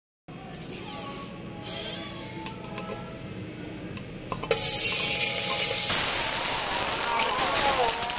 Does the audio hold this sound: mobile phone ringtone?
no